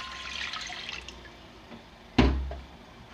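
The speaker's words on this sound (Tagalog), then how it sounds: "Lagyan na natin ng tubig. Isang basong tubig." A glass of water is poured into a cooking pot: a soft trickle and splashing, then a sudden louder gush that tapers off near the end, close and clear with no talking.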